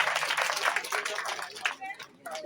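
An audience at an official school ceremony claps in a quick, scattered burst of applause, fairly distant and thin, thinning out toward the end with faint voices mixed in.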